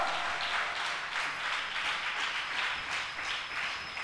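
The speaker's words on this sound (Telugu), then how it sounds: "హలో యవనస్తులారా, గట్టిగా చప్పట్లు కొట్టండి." A church congregation at a Holy Communion service claps steadily, a dense, continuous wash of many hands at even volume, rhythmic pulses running through it for several seconds.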